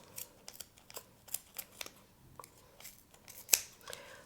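Scissors snip yarn while trimming a pom-pom for a craft bunny, a series of small, quiet, irregular cuts with one sharper, louder snip near the end.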